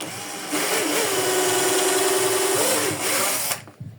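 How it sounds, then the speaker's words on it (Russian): A cordless screwdriver spins a hole punch through leather while a knife sheath is made, a steady close whirring motor run that starts abruptly, holds for about three seconds and then winds down. "вот такой вот есть у меня пробойник. Ну, я его вставил в шуруповерт."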